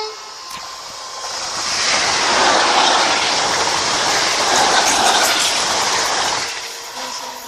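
A train passes on an 80 mph stretch of line near Ashwell & Morden, its loud rushing roar and rail noise building, holding for several seconds, then fading as it goes by.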